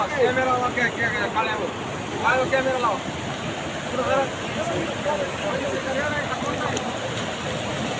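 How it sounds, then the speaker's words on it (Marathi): Dangerous flood water rushes across a village road after heavy rain, a broad, continuous roar with wind buffeting the microphone, while someone talks over it. "हे पा पाण्याचा प्रवाह खतरनाक"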